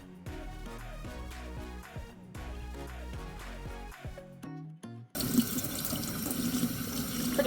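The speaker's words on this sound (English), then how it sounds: "let's go rinse them" Tap water runs into a sink while cyanotype prints are rinsed, a steady loud rushing stream that starts abruptly after several seconds of background music and continues to the end.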